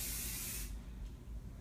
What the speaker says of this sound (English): So I just want to do a little tiny zigzag right down the center, just like I'm spraying the face with water.